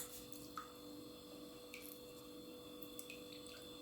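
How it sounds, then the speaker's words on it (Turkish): Juice drips faintly from cooked eggplants squeezed slowly by hand while making eggplant jam, a few soft scattered drops over a steady low background hum. "Böylece patlıcanlarımızın içinden suları bakın nasıl akıyor."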